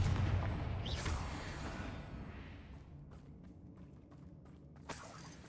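The Confringo fire-blast spell explodes in Hogwarts Legacy, a booming blast that fades into crackling debris, with a few sharp pops and a final crack toward the end.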